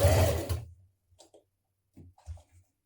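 A sewing machine top-stitches along the edge of a blouse band, a short burst of close mechanical whirring followed by a few soft, sparse ticks and clicks.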